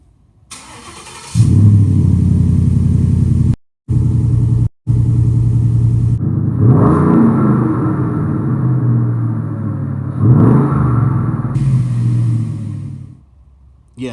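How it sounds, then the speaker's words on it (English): A 2017 truck with a 5.0 Coyote V8 and a 3-inch in-and-out muffler starts up and idles loudly, then revs in two deep swells before settling back; the engine is close and no one talks. "Yes, that wonderful Coyote V8 sound."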